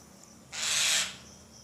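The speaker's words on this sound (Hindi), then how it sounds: "यहाँ चिड़िया के लिए ख़तरा महसूस हुआ है, चिड़िया चिल्लाना, और बड़ी गंभीर आवाज़ में ये चिड़िया चिल्लाती हैं" A single harsh, hissing alarm screech from a forest bird, loud and close, lasting under a second before dropping back to quiet woodland background.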